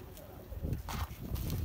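Soft coos from Kumbhad pigeons over a low background rumble, a few muffled murmuring calls, fairly close.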